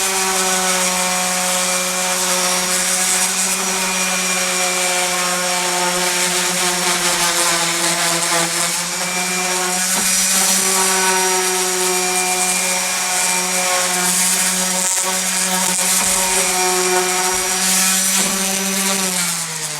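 Orbital sander running steadily on wood, a continuous loud buzzing whine with a stable pitch and faint rubbing texture, unbroken for the whole stretch with no talk.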